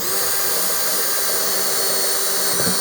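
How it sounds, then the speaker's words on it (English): A cordless battery drill bores all the way through material, giving a steady, loud whine that holds evenly for the whole stretch with no talk. "and now we can drill all the way through"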